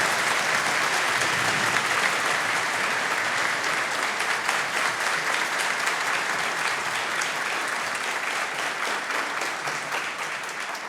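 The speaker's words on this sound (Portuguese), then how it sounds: "Eu queria que vocês dessem uma grande salva de palmas aqui para o nosso solista, Arthur Benck." A concert audience at a philharmonic orchestra performance in São Bento do Sul gives sustained applause for soloist Arthur Benck, a dense, steady roar of many hands clapping that tapers slightly toward the end.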